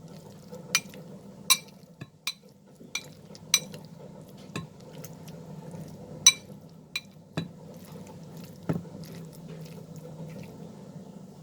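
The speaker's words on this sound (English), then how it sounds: "You can use a masher to mash it." Boiled green peas being roughly mashed with a masher in a kitchen, giving a series of sharp metallic clinks and taps against the bowl at irregular intervals over a soft, quiet background.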